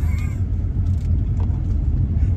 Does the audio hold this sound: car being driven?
yes